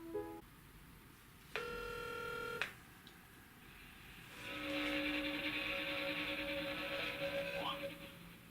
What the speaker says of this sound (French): Nous allons appeler Satan, hein